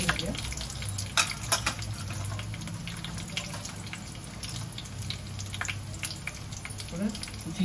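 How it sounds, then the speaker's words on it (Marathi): Mustard seeds splutter in hot oil for a Maharashtrian ghevda (flat bean) bhaji, a continuous close sizzle scattered with sharp pops and crackles, and a voice breaks in now and then. "मोहरी घालूया।"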